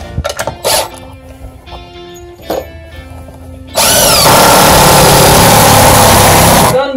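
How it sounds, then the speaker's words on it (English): A DeWalt driver sinks a screw into new window framing: a few short knocks and bursts, then one loud, sustained whirring run of about three seconds, close up. "And the DeWalt driver, that's the best."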